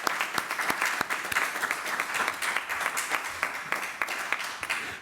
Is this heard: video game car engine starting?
no